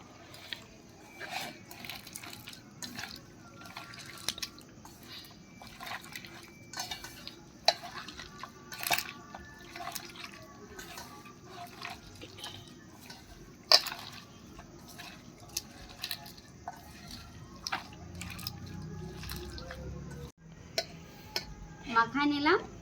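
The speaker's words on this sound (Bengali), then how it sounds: "এখন ভালো মতন মাখাই নেব।" Mutton being hand-mixed with spices and garam masala for a Bengali handi mutton, with soft squishing and rhythmic clicks and taps of metal on a bowl over faint background hum, growing thicker near the end.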